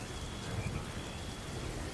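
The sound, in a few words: steady drizzling rain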